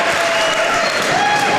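A wrestling crowd cheers and applauds, a loud, dense wash of clapping and voices that stays steady throughout the short moment.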